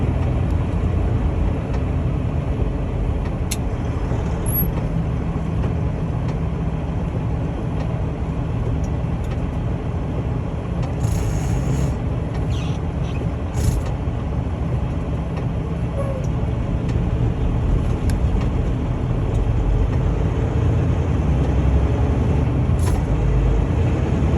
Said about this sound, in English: Snow plows out, plowing.